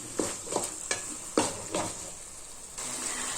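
Soya chunks and gobi manchurian stirred in a pan, a quiet soft sizzle with scattered scraping strokes of the spoon at an irregular rhythm, close and alone without talk.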